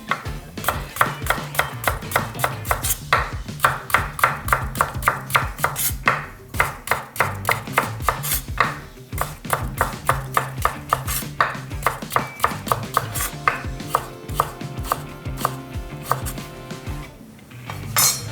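A kitchen knife thinly slicing halved burdock root on a diagonal against a cutting board: quick, steady, rhythmic taps continuing for a long stretch, close and crisp, with no talking.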